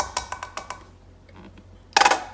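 A nearly empty plastic ketchup bottle squeezed while measuring teaspoons in a home kitchen: a run of short clicky sputters, a quiet pause, then a loud spluttering squirt of air and sauce.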